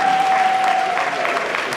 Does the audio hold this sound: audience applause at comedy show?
yes